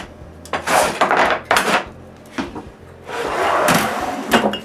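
Wooden workbench drawers full of hardware and hand tools sliding open and shut in a woodworking shop, several separate rattling, clattering pulls and pushes with loose metal contents shifting inside.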